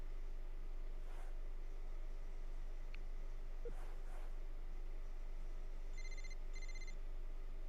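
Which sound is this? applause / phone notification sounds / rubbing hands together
phone notification sounds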